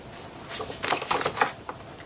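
Paper pieces for a Stamperia Hortensia mini album being shuffled and slid against each other, a brief cluster of dry rustles and flicks, close and fairly quiet with no speech.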